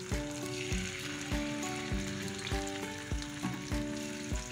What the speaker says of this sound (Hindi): ऑयल में इसको इस तरीके से डाल दूंगी ताकि ये फ्राई हो जाए।